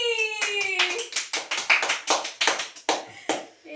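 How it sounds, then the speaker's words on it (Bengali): A crowd of family and guests clapping at a home anniversary celebration, a burst of hand claps swelling briefly over a fading tonal tone and then breaking into scattered, uneven bursts of applause. "হাততালি।"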